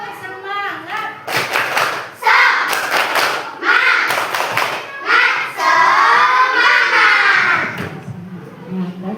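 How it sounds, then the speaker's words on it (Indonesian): Schoolchildren in a third-grade class do a rhythmic 'tepuk semangat' spirit clap, with bursts of loud group hand claps in a patterned beat alternating with the children chanting together. "Tepuk semangat."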